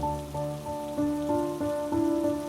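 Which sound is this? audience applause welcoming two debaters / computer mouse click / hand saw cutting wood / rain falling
rain falling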